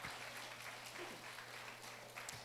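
A church congregation claps together, a steady wash of applause lasting a couple of seconds, moderately distant and filling the room without talk on top.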